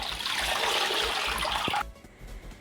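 Mula (radish leaf) bhaji greens being rinsed in a basin of clean water in a home kitchen, a steady close splashing and sloshing that stops abruptly near the end, leaving only faint room noise.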